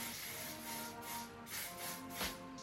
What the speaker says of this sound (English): I will be using this Salon Finish hairspray.